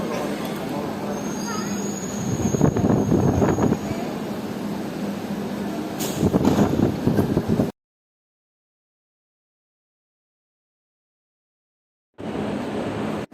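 A Singapore MRT train runs toward Woodlands station with a steady, close cabin rumble that swells twice, cuts to total silence for several seconds, then returns briefly.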